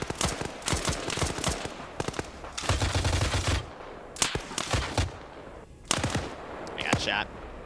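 Bursts of automatic gunfire and single shots ring out in an Arma 3 combat session, rapid cracking volleys coming in clusters, some loud and close, others thinner, with brief gaps between them.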